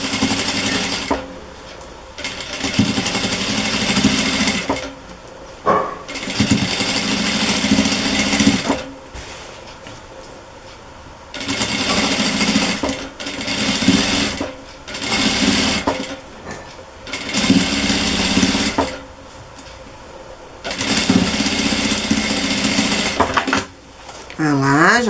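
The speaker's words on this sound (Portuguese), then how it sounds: "vamos lá pra costura dos finalmente do nosso barrado" Sewing machine runs in repeated bursts of stitching, sewing a Seminole patchwork border onto a cotton dish towel, steady mechanical whirring alternating with short pauses while someone talks in between.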